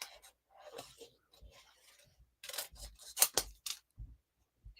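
Scissors snip away excess paper from a stamped cow craft piece, a run of short crisp cuts and rustles close by, ending in a few sharp snips with brief pauses between them.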